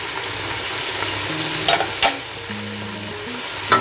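Black peppercorns and whole garam masala spices sizzle and crackle in hot oil for a beef yakhni pulao, with steady frying hiss, a few sharp pops and scraping stir strokes throughout, no voices.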